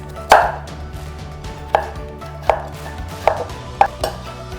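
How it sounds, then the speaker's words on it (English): Five separate knife strokes chop carrots and sweet potato into matchsticks on a cutting board, each a sharp close thud spaced about a second apart, with no talk. "I'm going to be now cutting some carrots and sweet potato, which I will also be roasting"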